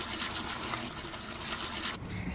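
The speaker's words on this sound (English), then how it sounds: "So filling up a bucket, always put your water in first and then your soap." Water gushing steadily into a bucket being filled for window cleaning, a broad continuous rush that carries on for about two seconds before dropping back.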